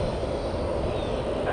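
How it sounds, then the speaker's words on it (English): A Gulfstream business jet taking off slowly at TPA, its engine roar a steady, loud, broad rumble held throughout with no voices. "Slow takeoff for a Gulfstream"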